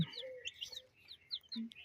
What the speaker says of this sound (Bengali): এখানে 15 পিস টাইগার মুরগির বাচ্চা দেখতেছেন